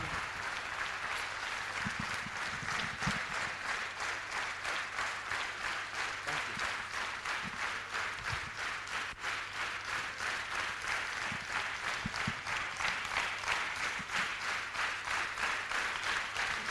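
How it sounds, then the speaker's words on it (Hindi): An audience at a business training session bursts into steady, even applause that continues for a long stretch, heard from a moderate distance with faint thumps underneath. "तो ऐसी जबरदस्त सिस्टम के लिए मैं चाहूंगा एक जोरदार ताली बजा दो"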